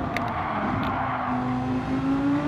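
Racing car engine in Gran Turismo 7 on the Swiss Deep Forest circuit, a loud, steady whine that climbs in pitch as the car accelerates, heard on its own without any talk.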